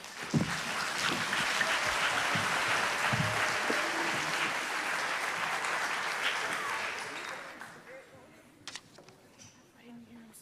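Steady crowd applause in a school academic bowl for a 7th grade team, filling the room for about seven seconds before thinning into scattered claps and faint voices.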